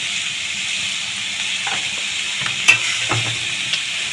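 Star fruit chutney with turmeric and salt sizzles and fries steadily in a pan, giving a constant hiss, with a few scraping stirs and clinks near the end.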